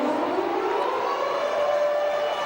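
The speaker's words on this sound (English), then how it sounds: "there's the full-time siren." A full-time siren at a rugby league match between Salford and Toulouse gives one long, steady, slowly rising wail that carries across the stadium over faint crowd noise.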